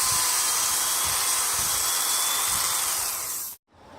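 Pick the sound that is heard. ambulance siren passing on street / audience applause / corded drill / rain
corded drill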